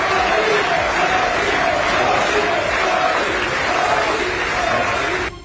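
A packed crowd of lawmakers in the US Congress chamber raises a continuous, loud roar of cheering, steady and unbroken from start to finish with no clear single voices standing out.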